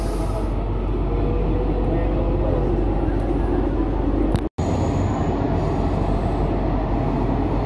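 A Riyadh Metro Orange Line train heard from inside the carriage, a steady loud rumble and wheel roar running throughout, broken only by a brief instant of silence.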